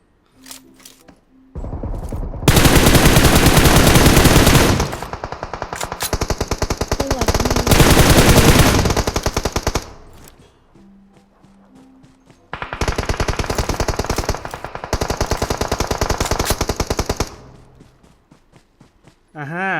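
Bursts of rapid automatic gunfire in PUBG Mobile, two long loud volleys separated by quieter stretches with scattered single shots and light footsteps.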